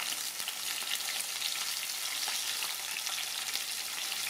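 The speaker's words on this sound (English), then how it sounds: "So that pan should be quite hot now. So let's have a look. Let's put this in. Yep, nice and hot." Vegetables for a vegan ackee dish dropped into a very hot pan, giving a loud, even, continuous frying sizzle close by with no voices.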